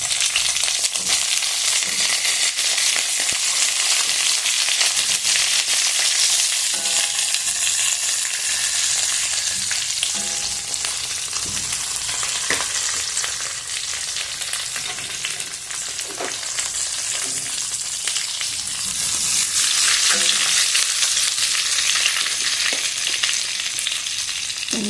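Brinjal pieces frying in oil with turmeric, cumin, dried red chilli and curry leaves give a loud, continuous sizzle. It swells and dips with occasional stirring scrapes, and no one speaks.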